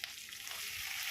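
Urad dal and dried red chilies fry in oil in a kadai, giving a close, continuous crackling sizzle.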